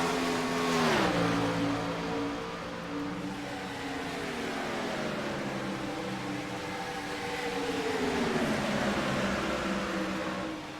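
Race cars run close together in a wide pack at Michigan, engines droning and shifting pitch as they sweep past in a continuous loud roar without any voices.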